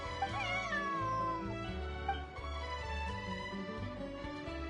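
A cat in Genshin Impact meows in a few clear, close calls over a soft musical backdrop, with no talking.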